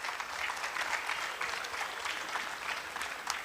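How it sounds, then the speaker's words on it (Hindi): Audience at an award ceremony applauds with steady, many-handed clapping that holds throughout, moderately loud and close, with no speech over it. "ये तालियां नहीं रुकनी चाहिए।"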